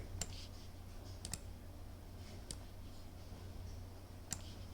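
Computer mouse clicking while dragging an equation around a LibreOffice Calc spreadsheet: a few sharp, quiet clicks, spaced irregularly, with a pair close together near the start, over a steady low background hum.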